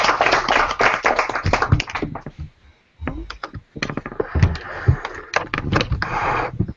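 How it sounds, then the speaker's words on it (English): A small audience claps after a speaker panel at a Social Good Summit meetup in Georgia, the clapping coming in uneven bursts with a brief lull midway, then picking back up before cutting off. "Yeah, maybe we clap."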